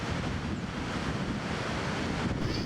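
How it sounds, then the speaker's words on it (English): Nile river rapids at Bujagali Falls near Jinja, Uganda, where the river leaves Lake Victoria, roar in a steady dense wash with wind buffeting the microphone. "Actually they are rapids and not waterfalls, which the Nile forms coming from Lake Victoria."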